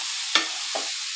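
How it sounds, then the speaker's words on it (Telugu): Pieces of bottle gourd fry in a spiced oil tempering, giving a bright steady hiss broken by two quick scraping stirs a moment apart, close and with no voices. "ఈ పోపులో కలిసిపోయేటట్టుగా మన సొరకాయ ముక్కల్ని బాగా వేయించుకోవాలి"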